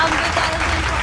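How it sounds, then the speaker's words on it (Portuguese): A short burst of applause rises during a casual indoor hair-care get-together, dense clapping from a small group with a voice talking over it. "Um aplauso!"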